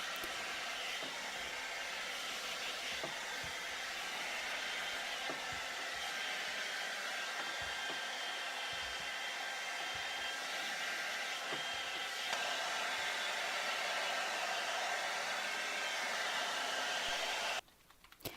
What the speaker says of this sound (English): we will wash that out and then dry it fully